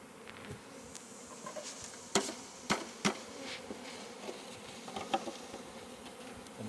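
Honey bees buzz around an open hive during an inspection, a soft steady hum broken by a few sharp knocks or taps, close and moderately quiet with no voices.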